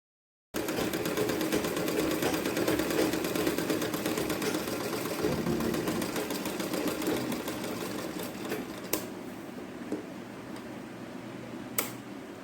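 Sewing machine stitching fabric for a traditional pattu pavadai top, a steady fast mechanical whirr running continuously and close, with a few sharp clicks toward the end.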